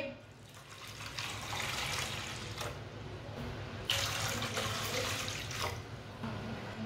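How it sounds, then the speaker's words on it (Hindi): Water from a tap runs steadily into a pot of washed red lentils, a continuous close splashing gush that shifts slightly as the level rises. "दो गिलास पानी डालेंगे।"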